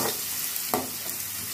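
Chopped onions fry in a pan for a soya chunks curry, giving a steady hiss and sizzle with a brief stir scrape partway through.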